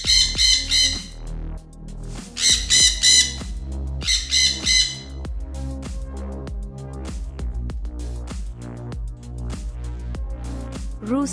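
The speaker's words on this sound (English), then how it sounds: "Parrot." A parrot gives repeated harsh, piercing squawks in short bursts over a steady rhythmic backing track, loud and close.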